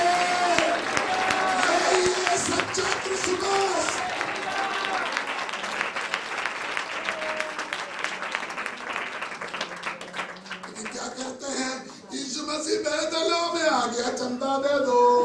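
Large indoor crowd applauding at a Christmas gathering, a dense, sustained wash of clapping that stays loud throughout, briefly thinning near the end, with voices mixed in.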